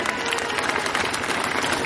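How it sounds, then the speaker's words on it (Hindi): An audience at a school college ceremony claps steadily during a flower offering at a statue of Mahatma Gandhi, brief continuous applause with no clear voices. "आप ताली बजाकर स्वागत करते रहे।"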